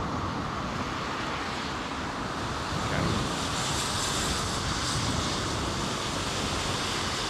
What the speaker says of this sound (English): This looks like Etihad's Dreamliner.